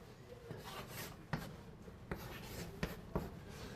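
Chalk or pen writing out a derivative formula by hand on a board, soft scratchy strokes with a few sharper taps, faint and close, with no talking.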